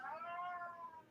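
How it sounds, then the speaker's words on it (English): A pet cat lets out a single drawn-out meow, about a second long, fairly quiet and slightly distant in an indoor room, with no talking over it. "excuse me, that's my cat."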